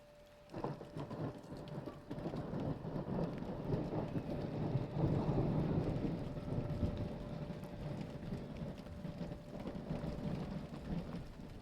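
Thunder rumbling during a thunderstorm, a deep rolling swell that builds and slowly fades, under a continuous patter of rain falling nearby.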